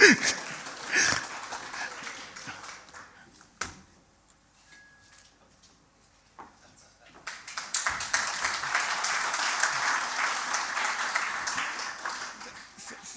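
Applause for a law professor after his talk at a university law faculty book launch, a patchy burst of clapping that fades to near silence mid-way, then swells again into sustained, fairly loud clapping from the audience.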